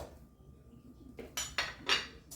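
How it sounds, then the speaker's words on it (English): A knife striking a cutting board while chopping onions and mushroom stems, three or four quick, close, crisp knocks in the second half after a quiet start. "And I'm going to cut up my onions, and that's my stems."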